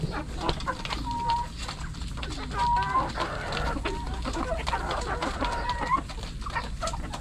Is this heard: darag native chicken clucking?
yes